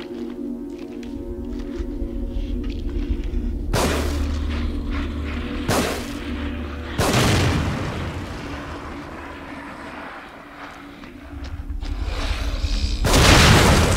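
Bomb blasts in The Evil Within game, several sudden loud booming explosions with broadband bursts, the last one very close, over a low droning ambient game backdrop with no talking.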